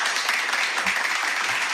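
Applause for Don Mickey walking on stage, a steady dense wash of clapping lasting under two seconds, fairly loud and even, with no voices over it.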